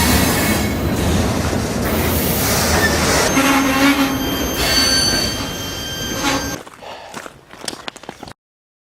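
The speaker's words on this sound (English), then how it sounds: "Safely off the train here in Lincoln." A freight train rolling through the Lincoln rail yard, loud and close, with rumbling wheels, sustained metallic squeals and clanks that cut off abruptly into scattered quieter knocks near the end.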